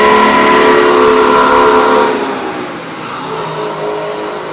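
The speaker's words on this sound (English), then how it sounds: "It's an old 2-stroke Detroit." An old two-stroke Detroit diesel engine revs loudly up close with a raspy, high-pitched scream, then drops back to a lower, steadier idle drone partway through.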